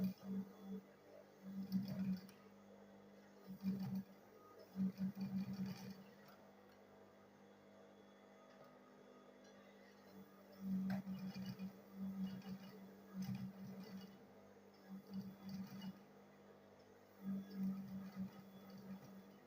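A sewing machine stitches the front panel of a school bag in several short bursts of running, separated by quiet pauses, with a low hum throughout.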